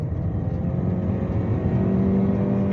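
A Chery Tiggo 8 SUV engine rises steadily in pitch as it accelerates under load, heard as a moderate, continuous drone from inside the cabin with no talking.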